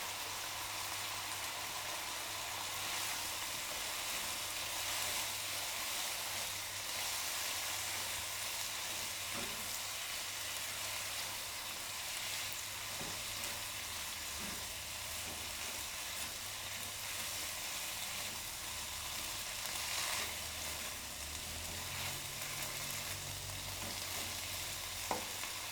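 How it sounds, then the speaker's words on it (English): Cabbage sautés in a pan for Japanese yakisoba, making a faint, steady sizzle with scattered light stirring clicks and taps over a long stretch. "Add the cabbage and sauté until it just begins to wilt."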